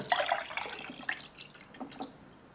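Water poured from a container into a Polish army combat ration fruit drink pouch, a quiet dribbling splash that trails off into a few soft drips and trickles, close by.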